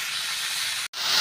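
Potatoes and onions fry in a pan with a continuous close, bright sizzle and hiss, broken by a very short gap near the end.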